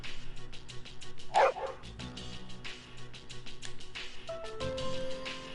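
Koro-chan, a dog in Persona 3 Portable, lets out a short, close bark over game music, with soft musical tones following.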